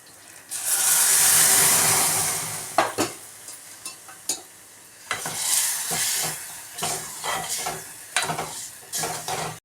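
Tempering sizzles loudly in a pan for a Telugu dal curry, a strong hiss that fades after a few seconds, followed by clattering spoon scrapes and stirring knocks close by.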